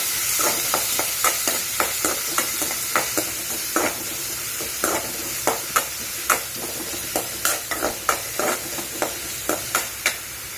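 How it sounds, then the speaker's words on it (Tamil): Finely chopped onion sautéing in a pan after mustard seeds have popped, a steady sizzle under regular scraping strokes of a spatula stirring, close and fairly loud. "வெங்காயம் ஒன்று அரிஞ்சு வச்சுருக்கேன் பொடியாக, அதை நல்லா போட்டு நல்லா வணக்கிக்கலாம்"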